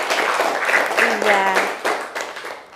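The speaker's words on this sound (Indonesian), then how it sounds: "Tepuk tangan dong" Classroom applause for a pupil, a short burst of children's clapping mixed with voices and a teacher's talk, fairly close and lively.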